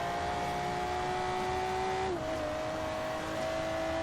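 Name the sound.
Volvo S60 car driving in video game Forza Horizon 3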